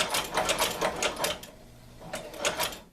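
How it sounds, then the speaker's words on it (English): An electrified Chinese sewing machine stitching slowly, a close rhythmic run of mechanical clacks that pauses briefly midway and then resumes, with no talk over it. "So I'm going to lift my presser foot up, spin it around so we can get that back stitching in. Set it back down. Let's go slow again."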